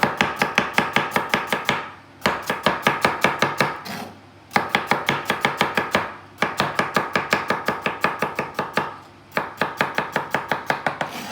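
A knife chops turmeric and chilies on a cutting board in fast, crisp, evenly spaced bursts of knocks, separated by brief pauses, loud and close with no voices.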